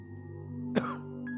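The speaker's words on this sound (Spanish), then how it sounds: "Esta tos no es nada y no me matará." A single short cough from a person, brief and close, over a steady low hum in a dramatized reading of a Poe story.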